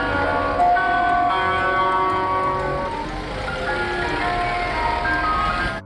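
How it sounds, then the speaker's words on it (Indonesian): A toy ice cream truck plays its tinkling electronic jingle, a bright, looping melody heard close and loud with nothing else over it, running steadily for several seconds. "ini mobil es krim"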